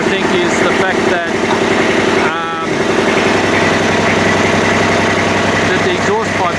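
Kubota B2100 compact tractor diesel engine idling after a cold start, a steady loud mechanical chatter running throughout with someone talking over it.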